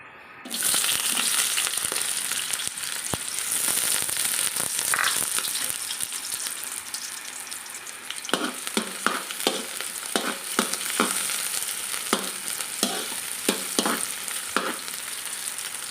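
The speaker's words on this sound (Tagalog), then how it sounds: "Yan, pagsasabayin ko na itong garlic and onion." Garlic and onion sautéing in hot oil in a wok for chopsuey, a loud continuous sizzle with sharp scrapes and clacks of stirring that grow more frequent toward the end.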